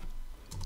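Keys tap on a computer keyboard, a few quiet, close clicks in quick succession with a slightly sharper pair of strokes near the end.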